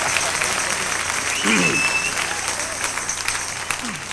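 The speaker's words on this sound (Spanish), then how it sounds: "Dale un aplauso" Audience applause at a Spanish-language Bible sermon, steady clapping from a crowd filling the whole stretch, fairly loud and close, with the preacher's voice briefly heard over it.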